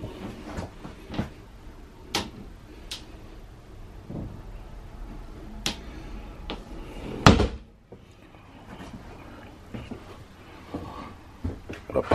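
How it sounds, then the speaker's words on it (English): A pocket door leading into a bathroom in a horse trailer's living quarters slides and knocks, with scattered thumps and clicks and one sharp bang midway, close and fairly quiet. "A pocket door going into the bathroom."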